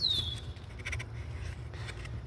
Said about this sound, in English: Here they have crows twice the size of the crows where I'm at.